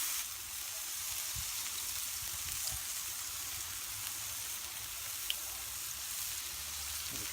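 Smash burger patties sizzle steadily in a pan, a constant close hiss and crackle with occasional faint pops, left to cook with no talk.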